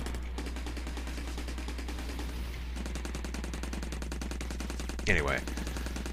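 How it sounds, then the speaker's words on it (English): The supergun weapon in the shoot-'em-up video game Steredenn fires a continuous rapid stream of shots, steady and loud throughout, with a brief burst near the end and a short spoken word early on. "Supergun is one of my favorite weapons. It just shoots everything on screen"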